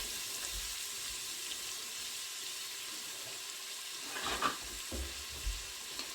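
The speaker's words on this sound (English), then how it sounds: "Here we go, into our nice hot oil." Chicken tikka masala ingredients sizzle steadily in hot oil in an Instant Pot, a continuous bright crackling hiss with a brief louder burst of spatter partway through, close by and with no talking.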